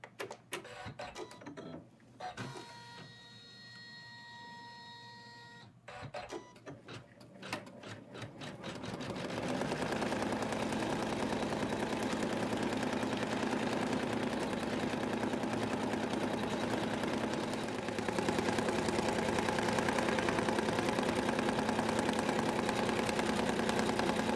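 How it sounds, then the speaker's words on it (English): An embroidery machine stitches out a placement line for Santa's arms on stabilizer, its rapid needle chatter starting softly with pauses, then running steady and loud for the rest of the clip. "it's going to stitch out the mids, the placement line"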